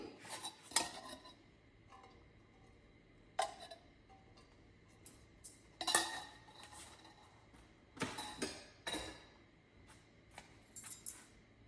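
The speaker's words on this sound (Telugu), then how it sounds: "పాన్ పెట్టి ఆయిల్ పోసుకుందామండి." A pan being set on a stove and oil poured in while preparing a brinjal tomato curry, with sharp metallic clinks and knocks at irregular intervals against a quiet kitchen background.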